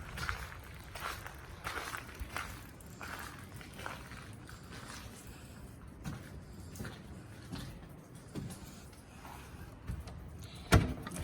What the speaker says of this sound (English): walk here where we have paving stones up to the 2 steps up to the porch here